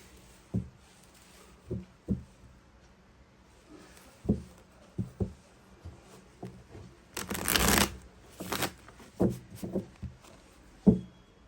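Tarot cards are shuffled by hand in quick riffles and taps, with several short soft bursts and one longer flurry midway, close and quiet with no talk.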